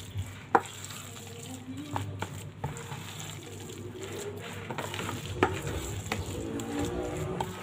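Alamang shrimp fritters frying in oil, a steady soft sizzle with occasional sharper pops and faint kitchen clinks, fairly quiet and with no voices.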